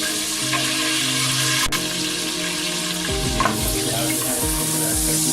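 Onions and whole spices fry in hot oil for aloo gosht salan, a steady loud sizzle with stirring scrapes and clatter, no talking.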